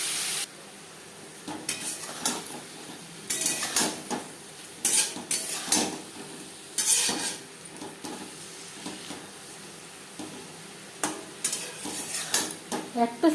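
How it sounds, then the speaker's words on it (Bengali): Marinated prawns frying lightly in a pan, a steady soft sizzle broken by repeated bursts of stirring and utensils scraping and clinking against the pan, with quiet gaps between. "মাছ আমি হালকা করে ভেজে নেব"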